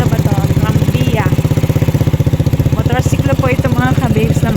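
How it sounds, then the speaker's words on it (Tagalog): A motorcycle with a sidecar runs steadily while being ridden, its close, loud engine throbbing in an even rhythm throughout, with voices speaking over it near the middle and end. "Motorsiklo po ito, mga kababes, na may sidecar."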